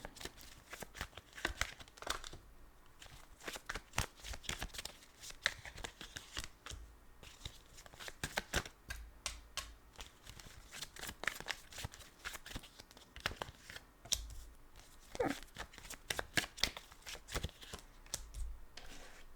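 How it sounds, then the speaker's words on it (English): Tarot cards being shuffled and laid out on a table in a series of rapid, papery flicks and slaps that come in bursts throughout, close and fairly quiet, with no talking. "I'm just going to lay out the cards here"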